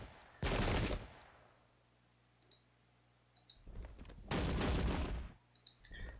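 Loud volleys of massed gunfire from a Sengoku Jidai battle crack out in two bursts, with faint clicks and small pops between them and no voices.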